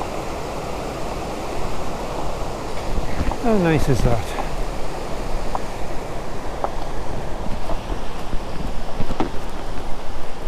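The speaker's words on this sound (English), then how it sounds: "wonderful waterfall here" A waterfall near Rydal Hall roars steadily as a broad close rush of falling water, with a person speaking briefly over it partway through.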